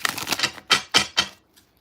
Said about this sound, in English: Let me get these cards shuffled up really good.